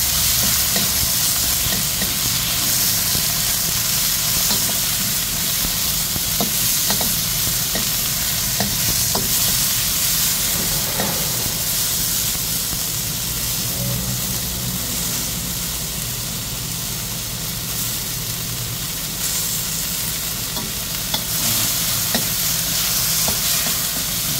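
String beans and cabbage sauté in a pan with a steady, loud sizzle and frying hiss, and scraping stirs of a spatula come through at intervals. No voices are heard.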